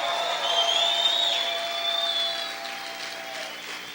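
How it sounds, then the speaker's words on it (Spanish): Church congregation applauding and shouting loudly during a sermon, a broad wash of crowd noise under sustained musical tones from instruments, gradually easing off. "Alguien puede gritar y aplaudir fuerte al Señor."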